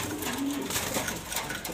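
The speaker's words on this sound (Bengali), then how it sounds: "এই যে দুইটা কবুতর আছে, যার লাগবে আসবেন, আইসা নিয়ে যাবেন ইনশাআল্লাহ" A pair of young pigeons offered for sale coo softly up close, low throaty notes over a busy background murmur.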